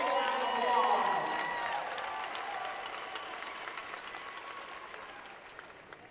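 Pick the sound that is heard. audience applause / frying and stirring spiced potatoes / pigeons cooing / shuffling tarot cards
audience applause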